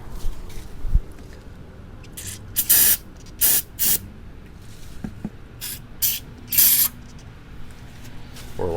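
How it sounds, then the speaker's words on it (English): Degreaser sprayed from a spray bottle onto a greasy spot on a cheap old John Deere, loud close hissing bursts, about six or seven short squirts in an uneven rhythm, with faint low background noise between them. "So let me spray a little more degreaser on that spot"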